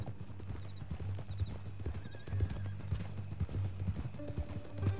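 Horse hooves clip-clop steadily in Red Dead Redemption 2, a rhythmic trot close by with an occasional whinny and some faint game ambience underneath.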